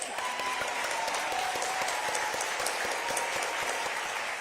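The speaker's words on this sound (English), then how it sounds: "Well, we ought to clap for them anyway." Steady, continuous clapping from an audience at a teachers' association event with the first lady, an even wash of many hands at moderate distance.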